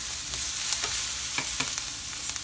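Garlic added to peppers sizzling in a pan for a Haitian-style potato gratin, with a steady close hiss and a few light stirring taps, no talking.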